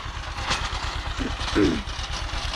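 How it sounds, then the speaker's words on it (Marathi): A farm tractor engine idles nearby with a steady, low, rhythmic chugging that continues throughout, and a few faint higher sounds drift over it. "आज सकाळ सकाळी ट्रॅक्टर चालू केला"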